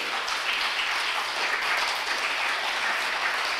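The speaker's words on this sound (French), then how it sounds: "Vous pouvez les applaudir." A seated conference audience applauds panel guests at a talk on cars and the energy transition, with dense, even clapping that holds steady and fairly loud throughout.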